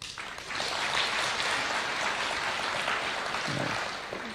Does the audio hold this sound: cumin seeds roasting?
no